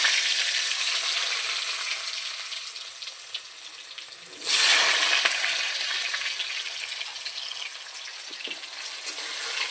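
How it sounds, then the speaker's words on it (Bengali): Potatoes hit hot oil already crackling with cumin and bay leaf, a loud burst of sizzle near the midpoint easing into a steady, close frying hiss with no talking. "আলুটাকে ভালো সুন্দর করে একটু লাল লাল করে ভেজে নেব"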